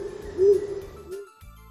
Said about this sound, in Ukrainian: Давайте послухаємо, як він воркує.